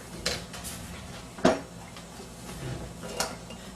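Wild muscadine jam is scooped from a pot into jars, with a few spaced clinks and knocks of utensil against pot and glass over a low kitchen background.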